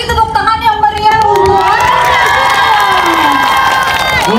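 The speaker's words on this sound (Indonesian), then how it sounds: "Boleh sekali lagi tepuk tangan yang meriah." A festival audience at a town square drum festival in Martapura cheers and whoops loudly, with many high children's voices shouting together in a bright, excited burst that carries through to the end.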